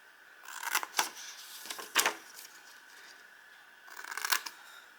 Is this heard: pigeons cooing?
no